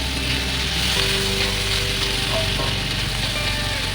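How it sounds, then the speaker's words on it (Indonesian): Tofu stir-fry with sweet soy sauce is stirred in a hot pan, producing a continuous close sizzle over a faint low hum, with no voices. "Kita masukkan kecap manis, kemudian ini kita aduk sampai benar-benar bumbunya itu tercampur merata"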